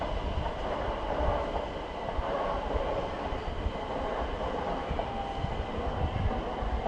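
A Southern train made up of a pair of Class 377 units rolls into Clapham Junction at speed, a loud, continuous rumble and wheel roar held steady throughout with no break.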